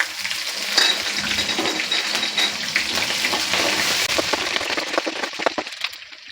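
Green chillies go into hot oil for capsicum chitranna, setting off a crackling sizzle with scattered sharp pops and spits that rises and falls, heard up close with no voice.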